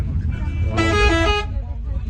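A vehicle horn gives one sustained honk of under a second on a road near Manali, over steady engine and traffic rumble, close and clear, with a voice talking around it.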